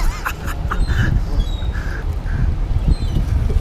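Ducks quack in short, repeated bursts while being fed chips outdoors in Vancouver, their calls scattered over a busy background of birds and low ambient noise at close range.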